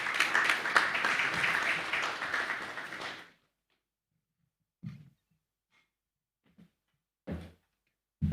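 A crowd applauds at a Graphic Business and Stanbic business breakfast meeting in Ghana. The dense, steady clapping lasts about three seconds and then stops abruptly, leaving near silence broken by a few faint thumps.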